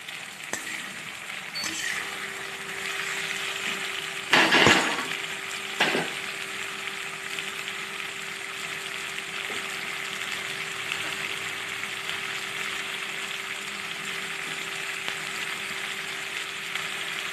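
Chopped tomatoes go into a pan of frying fish, giving a steady sizzle with a brief louder burst of spattering as they hit the hot oil, then continued frying.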